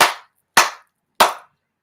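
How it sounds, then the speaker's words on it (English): Three sharp, separate hand claps sound close and loud at an even, unhurried pace, each one ringing briefly before dying away into silence. "She clapped"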